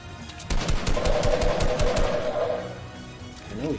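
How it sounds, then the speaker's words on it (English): Rapid automatic gunfire in a Fortnite one-on-one match, a dense burst of sharp repeated shots lasting about two seconds, loud and close, then trailing off. "I know he can hear my gunshots."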